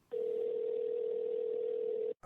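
Outgoing telephone call ringback on a handset: a single steady, unbroken tone that holds at even loudness for about two seconds and then cuts off, heard alone with no talk.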